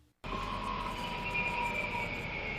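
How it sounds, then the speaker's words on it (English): A 2010–2015 Toyota Prius electric motor drives regenerative braking as the car decelerates, a steady electric whine with slowly shifting tones over a constant rumble, starting abruptly after a brief quiet moment. "This is the sound of the motor powering the regenerative brake."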